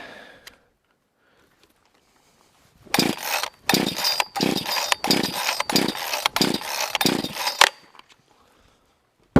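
A cheap Amazon chainsaw with no throttle lock is pulled over and over. Sharp, loud bursts come in a quick run of about eight pulls over several seconds, close up, after a quiet stretch.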